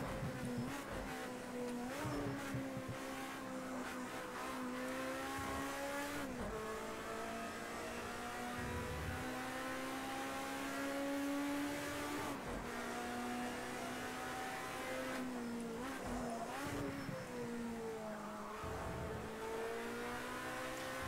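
A race car in a racing video game roars down the straight, its engine note holding a steady high drone with brief dips and rises as it shifts and revs, loud and continuous throughout.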